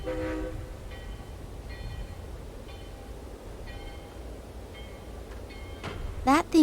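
A train in the point-and-click game Secret Files: Tunguska, a steady rumbling hum with faint tonal bits, ending in a sharp rising whistle-like squeal near the end, fairly loud and without talk.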